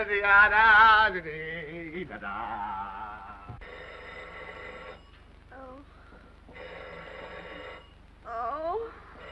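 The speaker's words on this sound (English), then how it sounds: "make them stop ringing that phone" A telephone bell rings in repeated bursts with short gaps between them, heard at moderate level inside a room. A voice speaks briefly over the start.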